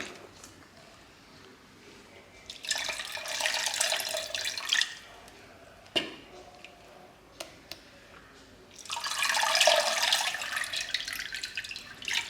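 Homemade butter being washed in water for ghee, with splashing and running-water bursts around three seconds and again near nine seconds, broken by quieter handling and a few clicks.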